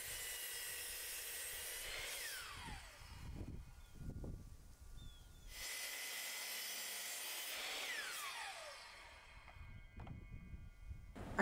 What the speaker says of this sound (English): Using my miter saw, I cut the corners to give it a modern shape.